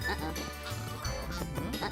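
Goose honking in the video game Neighbours From Hell 2, a few nasal quacking honks layered over dense game music and sound effects.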